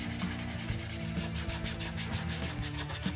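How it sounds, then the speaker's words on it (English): Rhythmic back-and-forth scraping of sandpaper rubbing on wood, a steady brisk stroke about four times a second, close and continuous. "and then a ton of hand sanding"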